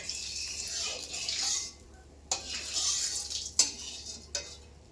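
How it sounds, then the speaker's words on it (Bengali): A spatula stirs hot oil in a kadai wok, giving a steady close hiss broken by a few sharp metallic scrapes and clicks against the pan. "তেল দিয়ে আমি এখন একটু নাড়াচাড়া করে নিচ্ছি।"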